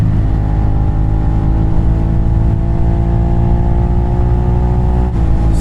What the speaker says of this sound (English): Oh, it's such a wonderful sounding engine with that M4 exhaust.